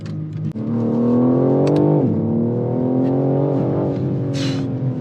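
BMW M3 Touring accelerating hard, its engine note climbing loudly and close, a quick gear change cutting the pitch near the midpoint, then rising again under sustained throttle.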